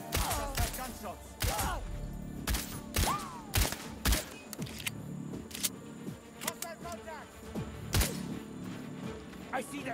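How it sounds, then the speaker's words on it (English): Gunfire in the video game Sniper Ghost Warrior: several sharp, scattered shots with mechanical clicks and thuds between them, mixed with game voices talking. "Just heard gunshots."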